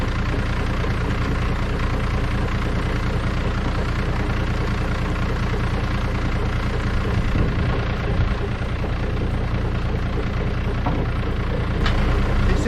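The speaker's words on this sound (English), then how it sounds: "Now we're going to speed up the PTO, the tractor RPMs very slowly to get to 540." A tractor's PTO drives a Woodland Mills WC46 wood chipper with the engine held steady, a continuous low mechanical drone and hum with no talk, running unchanged throughout.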